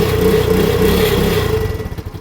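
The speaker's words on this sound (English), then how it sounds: "A bike goes from not starting at all to running beautifully." A motorcycle engine, recently given a quick carburetor clean, runs close by with a steady, throbbing low idle that stays loud and even throughout.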